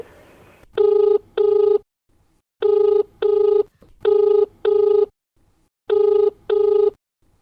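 A telephone rings on a radio farmers' phone-in program: four evenly spaced double rings, loud and clean, separated by near silence.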